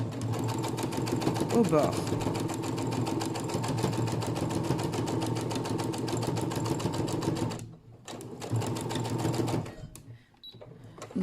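A sewing machine hums close by in a fast, steady stitching rhythm while sewing pinned ribbon, pausing briefly near the end, as someone speaks French over it.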